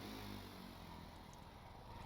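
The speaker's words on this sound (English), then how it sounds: "So you can hear the engine just scream and act the fool." A car engine in the game Stormworks revs hard in fourth gear, a steady loud droning whine with no pauses.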